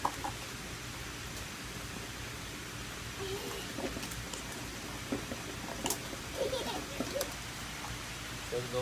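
Rain falls steadily as a dense, even hiss with scattered drops and splashes, heard outdoors without a break; faint indistinct voices surface now and then beneath it.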